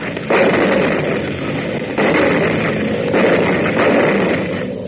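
Artillery gun firing as a radio drama sound effect, a sustained heavy roar of rumbling blasts swelling in repeated surges roughly every second or so, loud and close with no voices over it.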